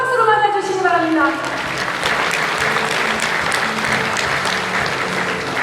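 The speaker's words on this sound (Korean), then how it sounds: "여러분 다시 한번 큰 박수로 맞아주시기 바랍니다" A large audience fills an auditorium at a provincial People Power Party members' training and chair inauguration ceremony, clapping loudly and steadily to welcome a committee chair after a brief voice at the start.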